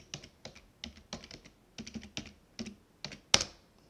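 Keys on a computer keyboard tapped in short bursts as a terminal command goes in, steady clicking clusters ending in one sharper, louder keystroke, close and alone with no talking.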